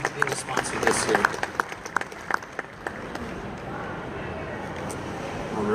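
An audience at the GATS 2018 trade show applauds, with a burst of scattered claps fading into crowd murmur and background talk at moderate distance.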